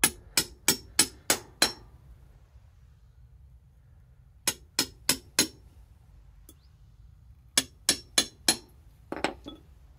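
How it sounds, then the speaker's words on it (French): Hammer blows on a flat cold chisel against metal washers on a workshop stand, landing in three quick bursts of four to five sharp, ringing metallic strikes, close and loud over a low background hum. "Je prends donc un burin plat, un marteau"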